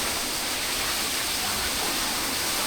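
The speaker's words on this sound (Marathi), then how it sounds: "बघा समोर धबधबा वाहते." A jungle waterfall pours in a steady, dense rushing roar that stays even and unbroken throughout.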